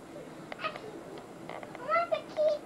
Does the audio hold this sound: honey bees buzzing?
no